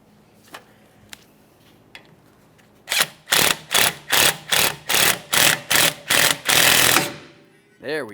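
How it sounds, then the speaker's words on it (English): A ratchet drives a bolt into the rear brake drum of a 2014-2019 Toyota Corolla to pull it off, heard as about ten evenly spaced bursts of rapid close clicking after a few isolated taps, ending in one sustained longer run. "Find the bolt that fits into it, start it in, and then you just want to continue on by tightening this up."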